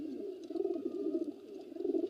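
A seventeen-year-old pigeon coos close by in a low, continuous throaty rolling murmur.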